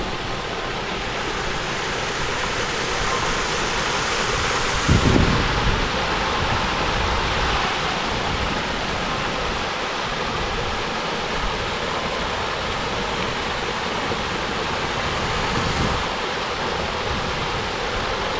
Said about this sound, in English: So you can hear the waterfall.